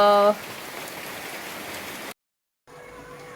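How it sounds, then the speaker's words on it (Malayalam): Steady broadband hiss of heavy rain falling, continuous and close, briefly cutting out before resuming. "മഴ പെയ്യുന്നുണ്ടല്ലേ നല്ല മഴയല്ലേ ഉള്ളത്"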